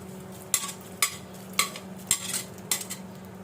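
Dried shrimp fry in a pan with onion and garlic, a soft steady sizzle underneath while a spoon scrapes and knocks against the pan in five or six sharp, evenly spaced strokes, close and without talk.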